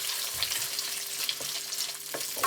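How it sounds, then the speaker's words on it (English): Frozen pre-cut onions sizzle in hot oil in a pan on a plug-in hob, a steady close crackle with occasional stirring scrapes and no talk. "You get them sizzling away nicely."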